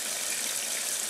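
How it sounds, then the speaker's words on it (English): Cold water pours steadily into a 1996 Maytag Dependable Care Plus washing machine on a delicate cycle, a loud, continuous hissing rush with no pauses or voices. "So we are filling up with cold water, per the recommendations of the manufacturer of this blanket."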